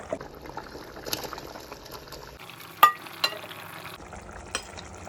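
Anchovy fish curry stirred gently in a pan after fried fish is added, with soft scraping, faint simmering and a few sharper utensil clinks against the pan, fairly quiet and close.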